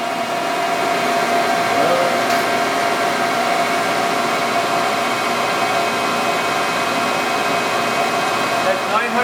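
A Leblond 15 x 54 inch servo shift lathe spins at roughly 900 RPM, giving a steady, even mechanical whir with a hum of gearing that holds at constant loudness, close by, throughout.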